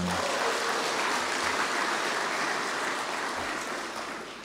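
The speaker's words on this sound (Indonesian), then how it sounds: "Ini baru satu tepuk tangannya udah gemuruh ya." Audience applause at a GP Ansor inauguration ceremony in North Lampung, a dense, steady roar of clapping that fills the space throughout and eases off slightly toward the end.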